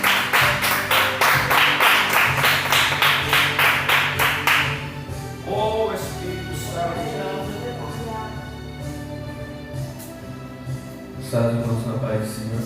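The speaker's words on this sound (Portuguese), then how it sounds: "Recebemos o servo de Deus com as palmas bem alegres para o Senhor" Church congregation clapping in a fast steady rhythm to welcome a preacher, loud sharp claps that stop after a few seconds, leaving a voice speaking over a low hum, with scattered claps returning near the end.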